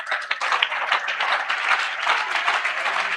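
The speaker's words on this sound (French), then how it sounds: "Oh, donne-moi une acclamation." Congregation clapping and cheering at a church revival service, a dense, steady wash of applause and voices held at even loudness for a few seconds, without a lead voice speaking over it.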